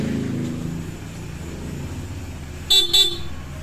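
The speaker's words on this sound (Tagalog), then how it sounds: "busina na yan" Two short, loud horn toots from a Honda ADV 160 scooter sound close by in quick succession after a stretch of quiet low hum.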